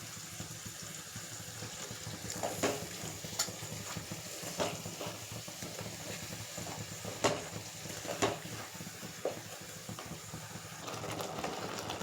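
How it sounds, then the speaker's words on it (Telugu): Onions frying in a pan for a vegetable curry, a soft, continuous sizzle heard close, broken by occasional brief scrapes and clinks of stirring. "ఇది ఆనియన్ ఫ్రై అవుతుంది కదా"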